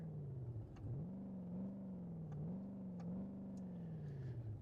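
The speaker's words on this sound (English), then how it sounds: "start it up, listen to that baby purr." An Oldsmobile Regency limo engine in BeamNG.drive idles and revs gently, its pitch wavering up and down in a steady purr, fairly quiet.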